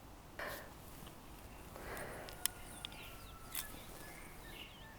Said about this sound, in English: So nice to hear the birds again.